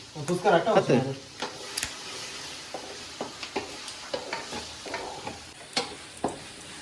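Masala with ginger garlic paste sizzles in a pan while a spoon stirs it, with a cluster of busy clattering scrapes at first, then sparser knocks and taps over a soft frying hiss.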